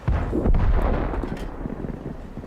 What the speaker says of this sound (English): So he puts a shot into his rear armour